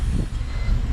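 Starter cranking a 2007 BMW X3 with the N52 engine that has multiple problems, a steady low mechanical churn held for about a second with no talk.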